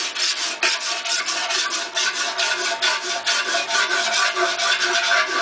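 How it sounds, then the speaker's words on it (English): A panel file scrapes back and forth across a car body panel, working out a dent without filler: a steady run of rasping, even strokes, close and loud, with no voices. "Back out with my panel file, pulling towards me"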